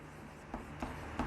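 Chalk or marker strokes on a board during a maths lecture, three short scratchy bursts spaced about a third of a second apart, quiet and close with no talk.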